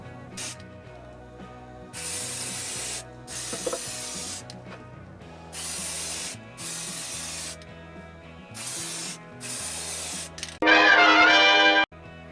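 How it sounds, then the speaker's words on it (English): Repeated bursts of grey primer spray, hissing about a second each, separated by brief pauses, with a louder, harsher hiss near the end over a low mechanical hum in a spray booth. "we're going to take it into the spray booth and we're going to hit it with some grey prime"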